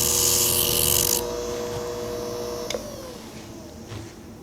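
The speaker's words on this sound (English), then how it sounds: "Clean up the sanding wheel when I'm done." A benchtop combination sander and burnisher runs with its sanding wheel being cleaned, a loud raspy abrasive scrubbing for the first second, then a steady motor whine with harmonic hum and a brief scrape near the end.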